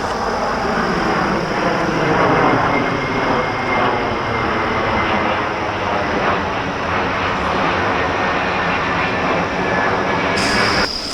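A loud, steady engine roar of an airplane passing overhead drones on without letup for several seconds.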